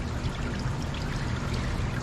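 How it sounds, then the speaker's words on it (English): Aquarium tank water is poured into small 2.5 gallon tanks for Apistogramma fry, giving a steady, rushing splash that runs continuously and fairly loud for two seconds. "Just fill up with the same water from the tank that they came from."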